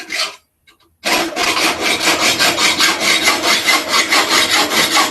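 Material cut by hand for a prop hidden blade, a loud rhythmic rasping saw stroke repeated steadily back and forth after a brief pause.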